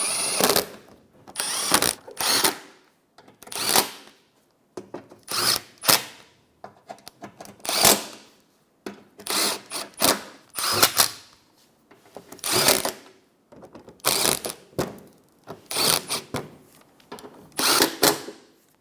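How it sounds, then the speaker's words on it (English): A ratchet tightens bolts on a 2014-2019 Toyota Highlander headlight assembly in repeated bursts of rapid clicking, close and loud, separated by short pauses. "Then go around and tighten up all your bolts."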